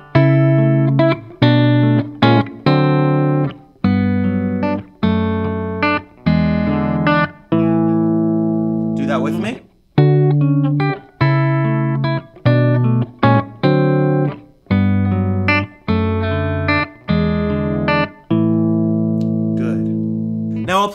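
An acoustic guitar plays the second verse of a song, with a steady sequence of ringing plucked chords, each struck and left to sustain before the next, played close and loud without accompaniment.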